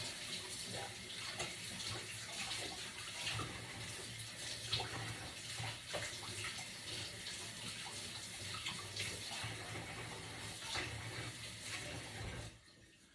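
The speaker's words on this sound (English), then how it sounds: "So we're just going to Give it a quick rinse." A knife being rinsed under a running kitchen tap, a steady rushing splash of water lasting about twelve seconds before it cuts off abruptly.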